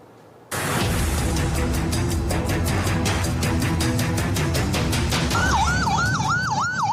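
An emergency ambulance siren wails loudly and close by throughout, with a rising and falling tone that turns into rapid yelps near the end, over steady road traffic noise.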